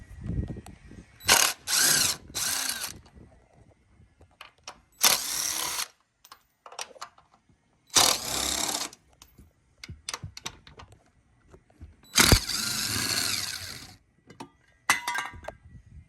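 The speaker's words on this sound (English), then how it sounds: "using a 13mm socket, we're going to take out the 4 bolts that hold this bracket on." Socket ratchet on a 13mm socket backing out bracket bolts on a GMC Sierra AT4 during a mudflap modification, heard as close bursts of rapid clicking ratcheting separated by short pauses and small metallic handling sounds.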